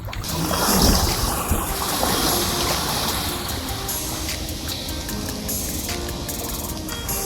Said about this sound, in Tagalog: Malakas ang agos